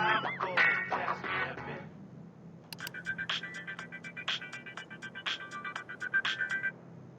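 A synthetic phone ringtone in Grand Theft Auto IV: The Ballad of Gay Tony plays a repeating melodic pattern of bright beeps after a short burst of other tones, fairly quiet and steady.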